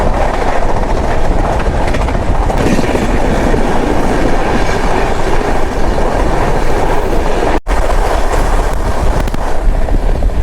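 A Garib Rath express train runs steadily on rails, a loud continuous rumble with rhythmic clickety-clack from the wheels, heard close from on board with no talking.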